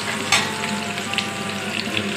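Garlic frying in a pan until lightly browned, giving a steady, moderate sizzle with a few brief crackles and no talk over it.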